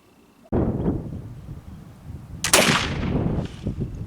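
A single sharp black powder rifle shot in a Swiss versus Mesquite powder comparison, a loud crack with a lingering rumble, preceded by rustling handling sounds, no voices.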